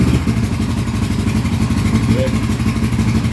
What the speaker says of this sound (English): And then let's start the motorcycle.